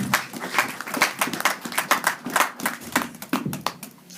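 Congregation clapping in a church, a brisk, steady run of many hands applauding together at moderate loudness, with no speech over it.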